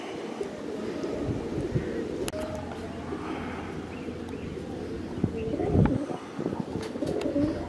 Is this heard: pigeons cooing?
yes